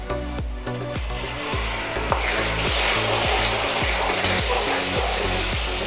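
Tomato puree goes into spices frying for a Bengali young-goat mutton curry, bringing a steady loud sizzle with a regular rhythm of scraping stirs thumping underneath.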